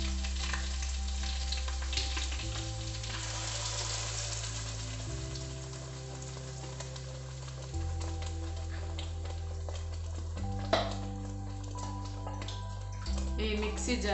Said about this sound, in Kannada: ಈರುಳ್ಳಿ ಕೆಂಪದು ರೆಡಿ ಆಡ ಕೆಂಪು ಕಲರ್ ಆಗ್ತಾನೆ ಐತೆ ಗ್ರೈಂಡ್ ಮಂತಿನ ಮಸಾಲ ಪಾಡ್ದ